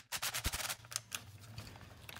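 A battery-powered impact gun rattles in rapid bursts while loosening a part on the electric water pump of a BMW 3 Series, the hammering close and fairly loud, then fading and slowing as the battery runs low.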